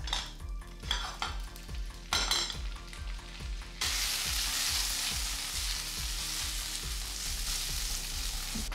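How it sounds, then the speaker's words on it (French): Mini sausages frying in a little oil in a hot pan, a dense close sizzle that swells into a loud steady crackle midway, with clinks of utensils against the pan and no one talking. "Et on va faire griller nos mini saucisses, sans plus de manière."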